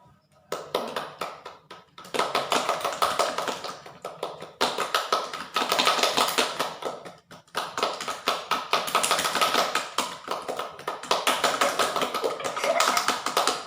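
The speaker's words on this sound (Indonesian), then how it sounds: "Kalau misalkan tangan Ibu ke atas, tepuk tangan teman-teman itu harus cepat." Group hand clapping during a classroom ice-breaking game, dense and continuous in several bursts with short pauses between, shifting between faster and slower rates.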